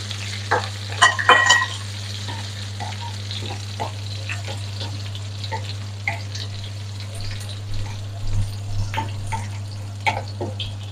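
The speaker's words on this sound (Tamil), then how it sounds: "பச்சை மிளகாய் கருவேப்பிலை வெள்ளப்பூடு எல்லாம் ஓரளவு வதங்கி" Green chillies, curry leaves and garlic fry in oil for an ivy gourd (kovakkai) stir-fry, giving a soft sizzle with scattered light stirring clicks over a steady low hum.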